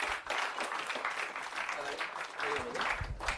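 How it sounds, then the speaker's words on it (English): Audience applause for former Socceroo Craig Foster at a sport and business speaker series, a dense, steady patter of many hands filling the room for a few seconds, with some voices mixed in. "Can we get a round of applause for former Socceroo Craig Foster?"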